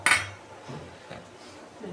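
A spoon dips into a bowl of gram flour (besan), giving one sharp clink of metal on the bowl's rim up close, then soft, muffled scooping and shuffling of the flour.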